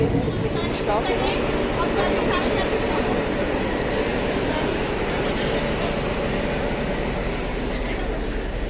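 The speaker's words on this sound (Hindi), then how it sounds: "अब इस यही ट्रेन से हम जाएंगे कुनूर" Steady rumble and rattle of a passenger train running from Ooty to Coonoor, heard from inside the carriage with continuous crowd chatter throughout.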